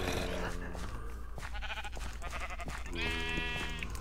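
Sheep in the video game Magic Farm 2 bleat repeatedly in short, wavering calls over constant background game music.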